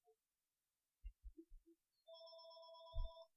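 A phone ringtone sounds, a sustained electronic tone entering after a few faint knocks and clicks, quiet and fairly close.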